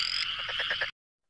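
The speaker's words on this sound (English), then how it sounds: "as in the ribbit kind of frogs, like this" A frog gives a rapid run of about five rhythmic croaks over a bright, steady chorus of calls, close and clear, then cuts off abruptly into silence.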